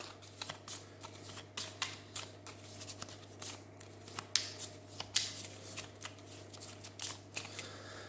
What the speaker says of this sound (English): these cards will be shuffled up